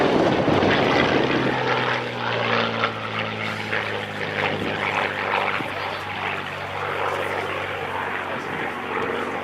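A Supermarine Spitfire with its propeller engine roars past during an anniversary flying display, a loud continuous drone with a steady low hum that shifts slightly in pitch, with a voice speaking faintly beneath it.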